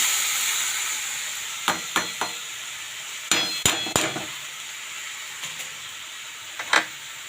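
Chowmein noodles tossed and stir-fried in a pan, a steady faint sizzle broken by several sharp clanks and scrapes of the utensil against the pan, close by with no talking.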